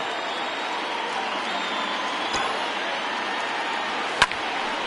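A sparse baseball crowd at a Yankees at Cleveland game rising to its feet, a steady wash of cheering and applause with a couple of sharp bat-like cracks or shouts standing out near the end.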